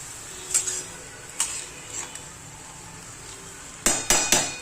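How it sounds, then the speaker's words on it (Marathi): Onion curry is stirred in a pan with a few scattered scrapes and knocks from a spoon, ending in three sharp metallic taps against the rim, over a quiet background. "आणि आता आहे ना ही चांगली अशी हलवून घ्यायची."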